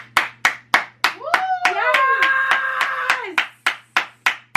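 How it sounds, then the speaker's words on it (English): Several people clap and cheer in a quick rhythmic burst at home, a brief whooping voice rising in the middle while the regular, close hand claps continue. "Clap it up for mom."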